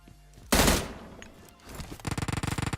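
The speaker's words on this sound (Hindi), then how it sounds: "पीछे से कोई ऊजी भी चला रहा था" Uzi gunfire in the video game PUBG Mobile: a sharp single shot blast, then after a short pause a rapid, rhythmic burst of automatic fire, fairly loud and close, with no talking.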